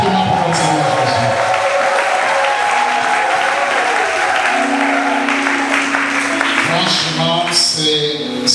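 Wedding guests at a nuptial blessing ceremony applaud steadily throughout, a dense, sustained wall of clapping with some cheering and crowd voices mixed in, loud and close.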